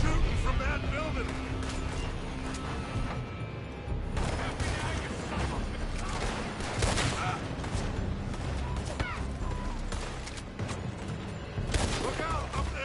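Relentless rifle and pistol fire from enemies shooting out of a building in Red Dead Redemption 2, loud overlapping volleys and thuds throughout, with people talking and shouting over the barrage.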